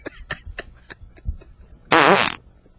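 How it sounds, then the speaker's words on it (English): A fart, one loud sputtering blast of about half a second, preceded by a few soft taps and thumps. "I can't believe that I'm being offended by someone else's fart."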